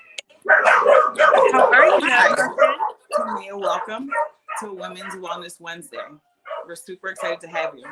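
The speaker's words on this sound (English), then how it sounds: "So I apologize for the dogs" Dogs barking indoors at home, with repeated yips and barks mixed under and between people talking and greeting each other.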